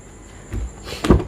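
A 2017 Ford EcoSport car door opening: a muffled latch thud followed by a second, louder low clunk as the door swings, close and fairly loud with no talking.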